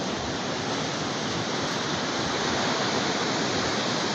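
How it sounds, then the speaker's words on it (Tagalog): Sea waves building in a storm, a constant roaring wash of surf that stays steady and fairly distant, with no voices over it. "palaki na ang dagat oh. Malakas na. Lalaki na ng alon."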